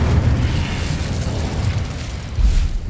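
Incendio fire spell cast in Hogwarts Legacy on PS5, a loud, sustained roaring blast of flame that rushes on steadily for about three seconds with no voices over it.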